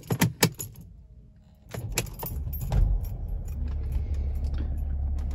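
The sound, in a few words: Mercedes ML350 W164 being started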